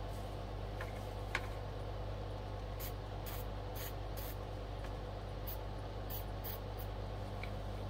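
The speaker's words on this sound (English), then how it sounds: "I'm going to spray some WD on there" Several short, quiet hissing bursts of WD-40 aerosol spray on a record player, spaced irregularly over a low steady hum.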